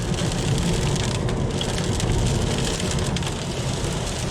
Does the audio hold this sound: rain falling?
yes